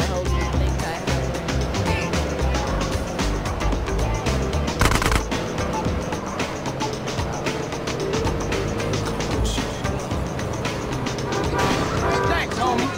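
Submachine gun fire during a drive-by in a GTA video game, continuous loud rattling bursts over vehicle engine noise, with voices talking throughout.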